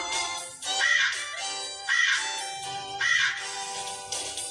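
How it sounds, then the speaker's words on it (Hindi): A crow caws in three loud, drawn-out calls spaced about a second apart, near and clear against a quiet background. "कौवा।"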